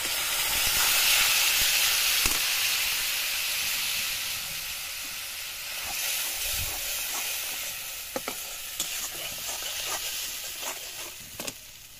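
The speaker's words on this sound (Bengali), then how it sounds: "পেঁয়াজগুলো ভাজা হয়ে গেছে, এখন মা বাটা মশলাগুলো তেলে দেবে" Ground spice paste hits hot oil in a kadai after onions have fried, for a Bengali pabda fish curry: a continuous loud hissing sizzle, steam-like and sustained, broken by occasional sharp spatters and utensil scrapes near the end, with no voices.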